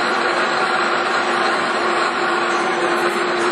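A Monarch 21x72 engine lathe with a 19-inch bedway spins at 750 RPM, giving a steady, loud broadband mechanical hum with a constant whine, close and unbroken throughout, with no talking.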